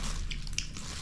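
A short, close crunching bite with crisp crackles, like teeth breaking into something fried and crispy.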